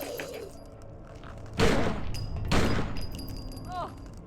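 Two heavy gunshots ring out in the Blair Witch video game, sharp broadband blasts about a second apart over a low murmuring background, followed by a short chirping effect.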